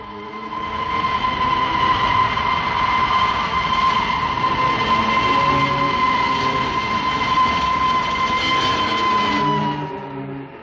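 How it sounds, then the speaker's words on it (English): A passenger train bound for Paris rolls steadily past, a loud continuous rumble of wheels and carriages with a sustained high whistle-like ring, swelling in and fading slightly near the end, with no voices. "The Paris train."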